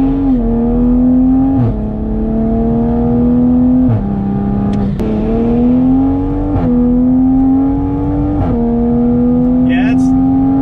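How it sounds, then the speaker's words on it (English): A Toyota Supra engine pulls hard through the gears, its loud, close drone climbing in pitch and then dropping sharply at each of four quick shifts. "I'm gonna A and B some shifting for you guys right here"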